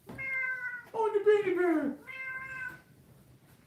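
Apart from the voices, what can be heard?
cat meowing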